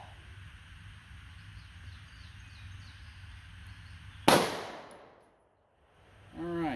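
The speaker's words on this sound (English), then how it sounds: "All right, good clean shot." One sharp, loud 9mm Gold Dot gunshot into a water jug and ballistic gel cracks out after a quiet stretch and fades quickly, followed by a brief splashy rattle.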